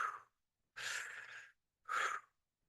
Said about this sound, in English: Ideally, breath work should be done through your nose, but basically it's an inhale, exhale, inhale, exhale